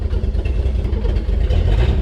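Long-abandoned 1965 Chevrolet Bel Air, sitting for 35 years, with its engine running at idle without throttle, a steady low rumble with light clatter, loud and close, no talking.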